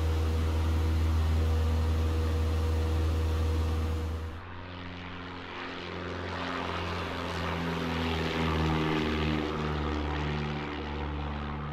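Piper PA-38 Tomahawk propeller plane climbing out in Microsoft Flight Simulator, a loud steady droning engine and prop hum that shifts tone partway through and then continues evenly.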